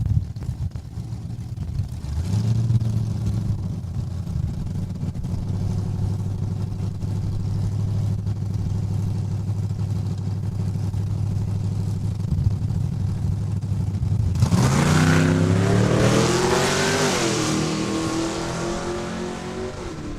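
Hyundai Kona drag racing at Saskatchewan International Raceway: a loud, steady engine drone holds for about fourteen seconds, then the revs climb and sweep through several rising gear pulls as the car accelerates away.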